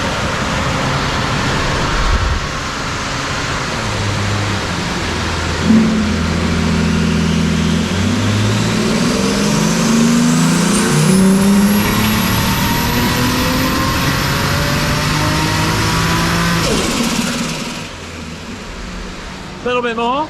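A car engine on a dyno revs and holds at high speed, its pitch climbing steadily, then drops back, with a loud mechanical drone throughout.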